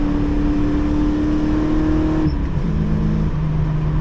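A car fitted with QA1 suspension rolls over a bumpy road, its steady engine drone and tire rumble continuous and close throughout, with a brief shift in tone partway through and no talking.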